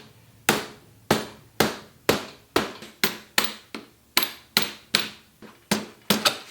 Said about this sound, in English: I'm just going to give this a little bit of a tap.